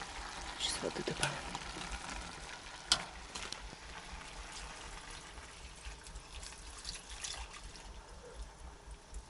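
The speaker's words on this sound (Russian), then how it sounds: "Сейчас воды добавим." Water is poured into a cooking pot inside a tent on the ice, a soft, uneven trickle and splash with a few sharp clinks, under quiet talk.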